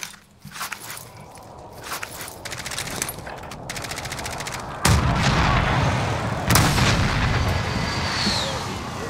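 Airstrike explosions and gunfire in Call of Duty Warzone: rattling bursts of fire build up, then heavy booming impacts hit around five and six and a half seconds, followed by a sustained loud rumble.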